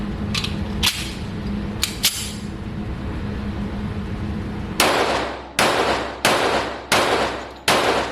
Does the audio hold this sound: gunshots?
yes